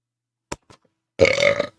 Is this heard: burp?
yes